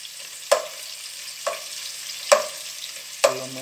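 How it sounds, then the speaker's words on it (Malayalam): Onions deep-fry in oil in a pan for Thalassery-style chicken dum biryani, a steady low sizzle broken by four sharp scrapes or knocks at an even pace. "ഈ സവാള നല്ലോണം ഒന്ന് ഫ്രൈ ആയിക്കോട്ടെ."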